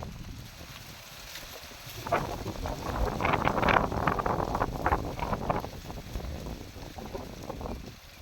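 Strong wind gusts over open village farmland, a loud buffeting rush that swells after a quieter start and keeps roaring and fluttering against the microphone, with no talking.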